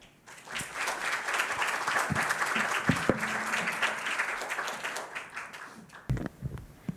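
An audience claps to welcome a speaker at a panel session on North Korean enforced disappearances, a full round that swells, holds with a few nearby thumps and taps, then cuts off abruptly as room noise returns.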